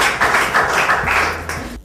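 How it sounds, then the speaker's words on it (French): Classroom clapping for a student's answer, a short loud burst of hand claps from a group, close and dense, cut off abruptly after under two seconds, with faint voices mixed in. "Applaudissez pour elle."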